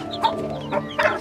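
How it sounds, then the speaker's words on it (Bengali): Chicken chicks cluck in a breeding room for sick birds on a rooftop farm, a few short bursts of nearby peeping and clucking over a steady background hum. "এখানে আছে বেশ কিছু মুরগির বাচ্চা আছে এখানে।"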